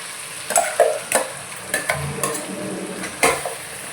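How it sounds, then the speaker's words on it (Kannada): Ground masala paste dropped into a sizzling pan of mutton sambar, with a low steady fry broken by several sharp spoon scrapes and clatters against the pan. "ಇವಾಗ ನಾನು ಇದಕ್ಕೆ ಮಸಾಲೆ ರುಬ್ಬಿಟ್ಕೊಂಡಿದ್ನಲ್ಲ ಅದನ್ನು ಹಾಕ್ಕೊಳ್ತೀನಿ"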